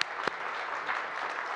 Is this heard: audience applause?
yes